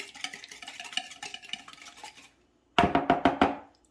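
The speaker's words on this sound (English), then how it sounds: "I'm gonna grab my whisk and I'm gonna pre-whisk those here just a little" A wire whisk beats muffin ingredients in a bowl, rapid rhythmic clinking strokes close by, pausing briefly before a louder, faster burst of whisking resumes.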